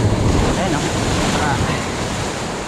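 Sea waves crash and surge against the rocky shore at Kamandag Beach fishing spot, a loud, continuous roar close by, with someone speaking briefly over it.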